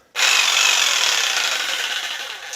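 A jigsaw bites into wood to shape the head of a guitar neck, starting suddenly with a loud, continuous buzzing rasp that stays close and steady, fading only slightly toward the end, with no voices.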